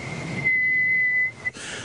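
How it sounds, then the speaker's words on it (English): A kettle whistling for hot cocoa, a single steady high-pitched tone lasting about a second before cutting off, clear and fairly loud over a low background hum. "the faint whistle of my hot cocoa being ready"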